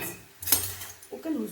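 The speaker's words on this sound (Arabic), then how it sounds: "كنجيبو شي طبسيل كنعملو بلاصيات بحال هكا باش كيصفنا داك الزيت" A plate set down in a kitchen for draining fried crepes gives a single short clatter of dishware near the middle, with faint talk and light kitchen movement around it.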